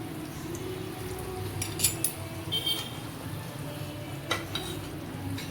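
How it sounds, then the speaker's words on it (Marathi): Vam fish curry bubbles gently in a pan as a faint, steady simmer, with occasional soft clinks and utensil taps. No one speaks. "चांगली उकळी पण आली आहे आणि आपली वाम पण पूर्ण शिजली आहे"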